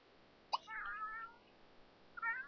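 Cat in The Sims 3 giving two short, soft meows about a second and a half apart, quiet and close, with a faint click just before the first.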